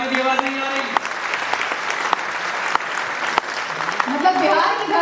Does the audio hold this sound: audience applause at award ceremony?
yes